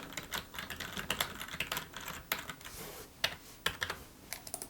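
Fingers tap an ID number on a computer keyboard in a library setting, a quick irregular patter of soft, close keystrokes with short pauses, no voices.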